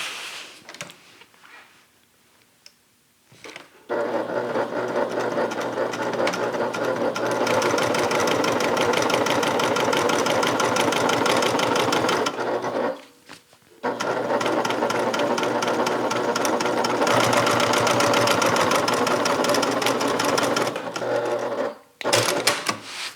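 A sewing machine top stitches the seam of a handmade bag in two long, steady runs with a brief pause between them, loud and close, with a short quiet stretch before the first run begins.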